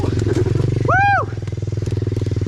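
A 90cc pit bike engine pulses steadily while trail braking on a woodland trail, a close, rhythmic motor drone throughout with a brief rising-and-falling whistle-like tone in the middle.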